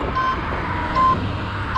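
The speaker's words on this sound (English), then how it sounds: "When I give indicator, we get a beep sound." Indicator beeps from an Ather 450X electric scooter, short high tones repeating roughly once a second over steady road and wind noise, close and clear.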